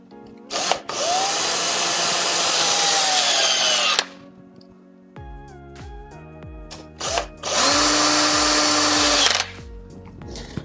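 Power driver running in two sustained bursts as it drives screws into an electrical junction box, loud and close, with a quiet gap of small clicks and handling between them.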